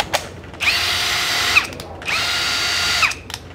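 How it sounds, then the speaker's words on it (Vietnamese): A Hukan three-function cordless drill with a brushless motor and a 13 mm chuck runs in two bursts of about a second each, whining as it spins up and winds down, with clicks between, loud and close with no talk. "Khoan 3 chức năng của Hukan."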